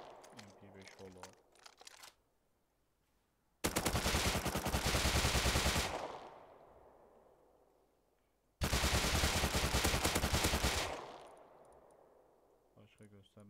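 An MP5 submachine gun with a holographic sight fires in the game Rust: two loud, sustained full-auto bursts of about two and a half seconds each, both trailing off into a fading echo. A voice speaks briefly before the first burst.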